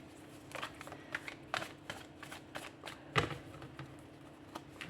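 Tarot cards shuffled and handled during a cartomancy reading, a run of soft papery flicks and taps at close range, quiet and steady with no talk over them.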